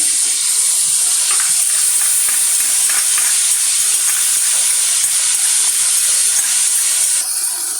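Garlic ginger paste and peas fry for vegetable fried rice, giving a loud, constant hiss and sizzle close up that runs without a break.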